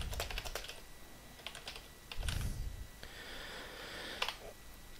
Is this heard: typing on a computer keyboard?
yes